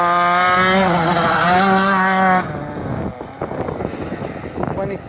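Sports car at an SCCA autocross test and tune in Central Pennsylvania, its engine droning loud and steady with clear harmonics for a couple of seconds, then dropping to rougher, fainter engine and tire noise with wind buffeting.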